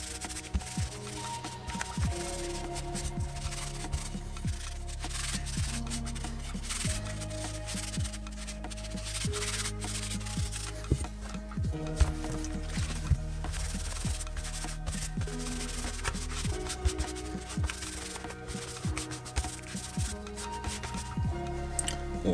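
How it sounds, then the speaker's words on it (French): A polymer airsoft replica, a Scorpion EVO, being rubbed down with a mild solvent degreaser, a continuous close scrubbing and rubbing with busy irregular strokes and no speech. "la première étape, là, ça va être de dégraisser la réplique comme il faut"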